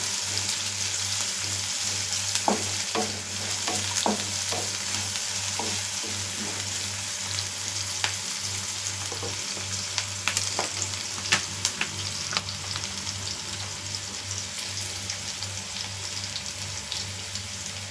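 Coconut oil sizzles steadily in a pan as mutton gravy ingredients sauté, a dense continuous hiss with occasional sharp pops and spatula clicks throughout.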